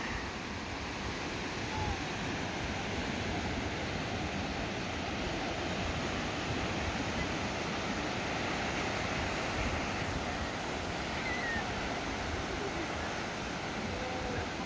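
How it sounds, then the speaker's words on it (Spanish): Ocean waves on a calm beach in El Salvador make a faint, continuous broadband wash of surf, steady throughout with no distinct break peaks. "Vean las olas ahorita están tranquilas"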